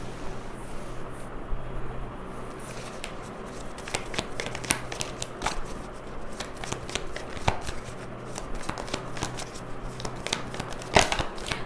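Tarot cards being shuffled in a sequence of crisp riffling flicks and soft slaps that grow busier after the first few seconds, close and fairly quiet, with no talk.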